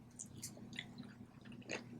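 Someone chews a walnut creamy shrimp mixture close to the microphone, making soft wet squishes and light crunches in an irregular rhythm, quietly over a low background hum.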